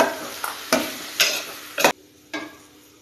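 Tamarind juice hitting brinjal frying on a slow flame in a pan, with four or five short bursts of sizzling and scraping stirs spaced about half a second apart, close and moderately loud, then quieter.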